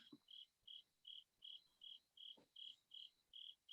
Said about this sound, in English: I like the crickets in the background